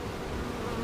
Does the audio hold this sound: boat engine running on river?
no